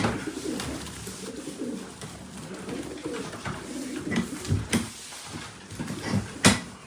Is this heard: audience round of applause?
no